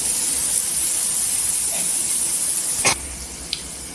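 Chopped cucumber dropped into hot spiced oil in a pan for a Maharashtrian cucumber bhaji, a constant close sizzling hiss with a sharp clatter near the end and a brief tap after.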